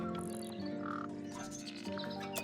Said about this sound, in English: And it's home to 3 especially fancy birds.